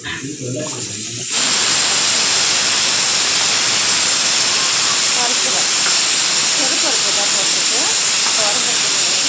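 A pressure cooker full of lentils and tomatoes lets off a loud, continuous steam hiss that starts abruptly after a brief quieter opening with faint voices and then runs steadily to the end.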